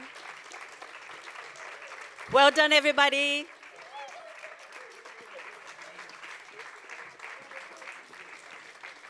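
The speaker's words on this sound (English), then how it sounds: "Keep clapping, keep clapping." Audience applause at a youth speaking event, a burst of clapping lasting about a second in the middle, with people talking before and after it.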